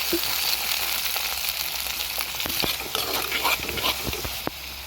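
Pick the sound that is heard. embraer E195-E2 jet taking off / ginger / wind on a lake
ginger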